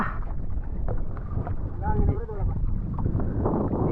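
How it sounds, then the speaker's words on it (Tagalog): Strong wind buffets and roars steadily, with gusty rumbling throughout and faint voices mixed in. "Grabing hangin na talaga."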